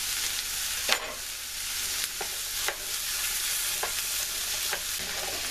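Root vegetables frying in butter for a vegetarian pot pie, a steady broad sizzle with a few sharp stirring scrapes at intervals, close and moderately loud, no voices.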